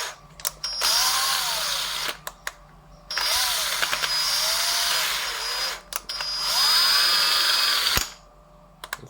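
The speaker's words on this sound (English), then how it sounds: "So just got to drill it out for a second." A power drill drills out brass in three sustained whining bursts separated by short pauses, close and steady, with small clicks and knocks between runs.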